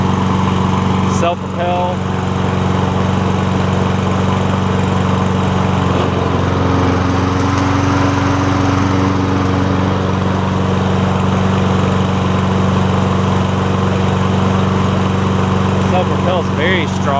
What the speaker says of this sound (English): Here, after the RPMs get situated, it runs great.